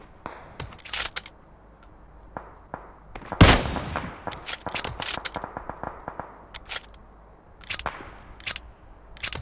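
Rapid bursts of gunfire from a battle royale video game, with many sharp shots in quick succession and one louder blast near the middle, loud and close, with no talk over them.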